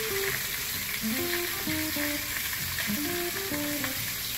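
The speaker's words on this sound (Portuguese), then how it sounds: "Em uma panela de pressão, aqueça mais 1 fio de azeite extra virgem e comece a refogar primeiro as cebolas" Onions sauté in extra virgin olive oil in a pressure cooker, a steady soft sizzle with faint stirring and scraping throughout.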